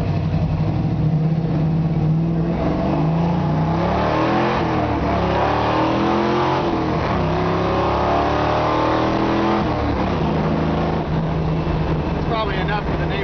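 A 1973 Camaro Z28 V8 pulls away hard, its engine note climbing through repeated rising sweeps with gear changes, loud and close throughout, with a voice faintly present underneath.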